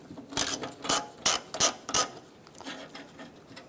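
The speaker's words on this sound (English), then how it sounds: "Take this bolt out here, use a 10mm socket." A ratchet turning a 10mm socket to back out a bolt on a 1998–2010 Volkswagen Beetle windshield wiper motor, giving about five crisp, close clicking bursts in quick rhythm, then softer ticks.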